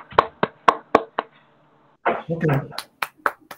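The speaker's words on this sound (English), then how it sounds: "Please, let's give him an applause." Sparse, scattered hand claps from a small audience after an academic lecture, a few crisp slaps, a brief pause, a short spoken word, then several more claps.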